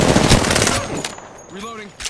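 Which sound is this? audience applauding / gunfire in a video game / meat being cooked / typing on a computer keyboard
gunfire in a video game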